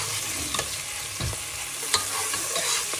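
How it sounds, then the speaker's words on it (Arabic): Anchovies fry gently in a pan with a soft, continuous sizzle, joined by a few light scrapes and taps of stirring, and no voices. "انا عايز الانشوجة بقى ايه يعني تتحمر بقى، اكنك بتحمر حاجة على خفيف"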